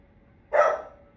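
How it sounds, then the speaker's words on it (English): A single dog bark, or a short yelping burst, sounds once at moderate distance over a quiet room and fades quickly, with no talk. "I hear the dog barking because someone's trying to distract me right now."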